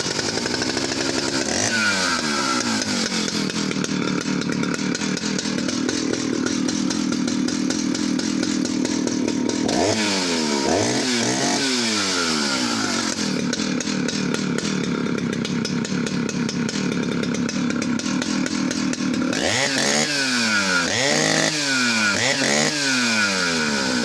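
A West German Stihl 051AV chainsaw runs loud and close, a continuous buzzing engine that rises and falls as the throttle is blipped several times, with revving sweeps repeated across the stretch.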